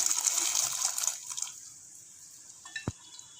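Sweet corn kernels pour into a pot of boiling water with a brief rushing splash, followed by quieter bubbling and a single sharp clink near the end.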